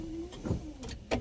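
Windshield wipers on a Squarebody truck run their last slow sweep to the park position, a short whirring wiper motor with faint mechanical clunks and a brief motor whine near the end of the stroke.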